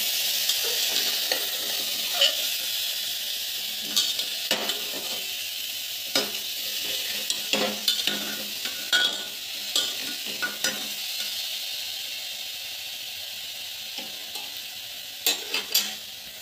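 Moong dal with bottle gourd, salt and turmeric stirred in a sizzling pan, a steady frying hiss broken by repeated scraping clicks of the spoon, close and clear with no talking.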